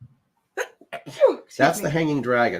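A single short sneeze bursts out near the start, followed by people talking close by.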